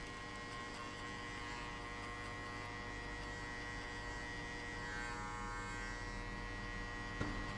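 Close, continuous electric buzz from a barber's shaver cutting hair during a mid taper fade, steady throughout, with a faint click near the end.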